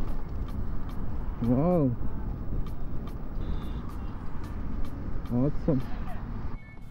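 Lightweight Techo Electra Emerge electric scooter ridden in mode 3, with a steady rush of wind and road noise and passing traffic throughout, while a voice lets out brief excited exclamations.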